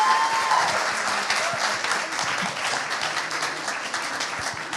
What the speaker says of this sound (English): massive round of applause for Claire Seal